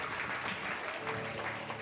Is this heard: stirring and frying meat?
no